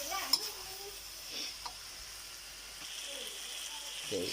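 Foraged wild mushrooms stir-fry in a pan with oyster sauce, making a soft, steady sizzle with occasional light scrapes and taps of a spatula.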